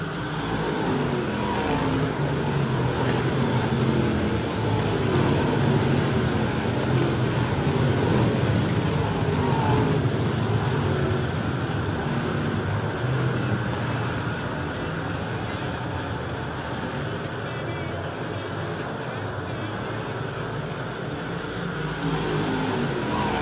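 Super stock race cars circle a track during a 33-lap A-main feature, their engines making a dense, steady roar that stays loud and constant for the whole stretch, with no clear gaps.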